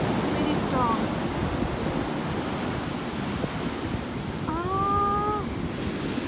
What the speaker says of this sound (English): Not the cleanest, but still looks so pretty because the waves are pretty strong.